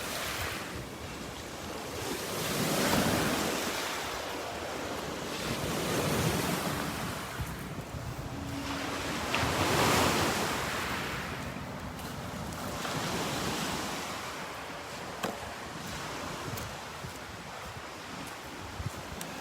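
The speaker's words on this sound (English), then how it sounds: "These are waves of the Sea of Galilee" Waves of the Sea of Galilee wash onto the shore in steady surges that swell and recede, with strong gusting wind buffeting the microphone and no voices.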